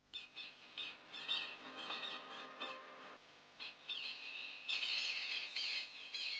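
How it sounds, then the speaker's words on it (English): Secretary birds in the Serengeti give a string of raspy squawks and chirps during courtship. The calls come in short, irregular bursts at a moderate distance, with no talking. "During courtship, secretary birds display their intentions by chasing each other on the ground with their wings out and held back."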